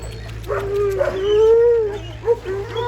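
A purebred male Kangal dog howls in a series of rising and falling wavering cries at a farm, close and fairly loud, broken by short pauses and a brief yip near the end.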